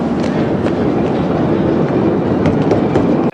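A New York subway train in a 1971 film scene rumbles steadily close by, with a dense low roar and clickety-clack wheel beats running throughout.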